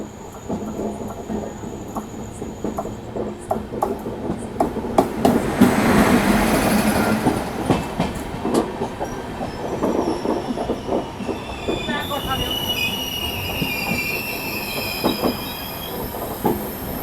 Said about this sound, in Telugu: మన తెలుగు స్టేట్స్ శతాబ్ది అన్నమాట ఇది, లింగంపల్లి విజయవాడ ఇంటర్సిటీ.